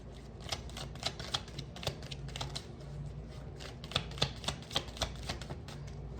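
Tarot cards being shuffled during a reading, a steady run of crisp riffling snaps and flicks at an irregular brisk pace, close by and fairly quiet, with no voices.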